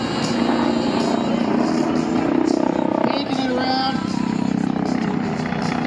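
A BO-105 helicopter hovering at an airshow, its rotor and engine a constant loud thrumming drone heard from a distance across the field, with an announcer talking over it.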